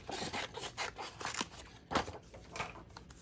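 Scissors snip and rasp through paper while a craft piece is fussy-cut for a memorydex card, a quiet, close series of short irregular cuts and rubbing strokes.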